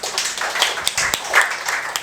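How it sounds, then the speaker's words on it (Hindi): Students clap in a classroom, a scattered burst of hand claps with several sharp individual claps standing out, fairly close, with no talking. "ताली बजाओ यार"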